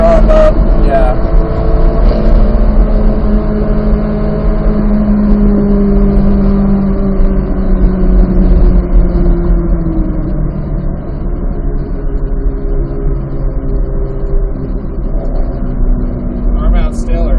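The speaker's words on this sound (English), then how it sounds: "you're just accelerating all the way off the turn, accelerating through" A Corvette Z06 accelerating on a race track, a loud, continuous engine drone with pitch sweeping slowly down and up during the run, with people talking over it.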